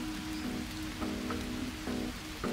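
Rain falls steadily in the jungle survival game Green Hell, a dense even hiss of drops on leaves and ground, with a faint low tonal hum pulsing underneath.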